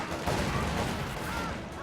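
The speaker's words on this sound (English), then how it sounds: "and there's the first Panzer Schreck." Panzerschreck rockets and gunfire in a World War II strategy video game battle, a dense, continuous rattle of shots and blasts filling the short stretch at steady loudness, with faint talk underneath.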